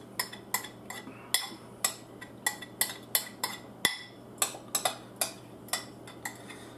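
A utensil scrapes cream of chicken soup out of a bowl, making a series of sharp, quiet clinks and taps in an irregular rhythm with no talking.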